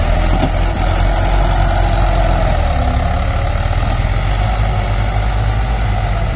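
Loud, steady diesel rumble of a Mahindra 475 tractor engine running close by during a field demo, a continuous heavy drone with no voices over it.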